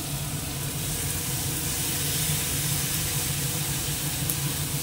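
Chili paste added to hot oil with fried onions, cumin, dried red chilies and bay leaf, giving a loud, steady, close sizzle and hiss that continues without a break.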